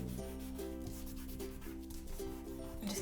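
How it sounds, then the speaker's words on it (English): Paper being rubbed by hand while decorating a weekly planner, a close, steady scratchy friction with soft repeated strokes and no talking. "just giving that a bit of a rub"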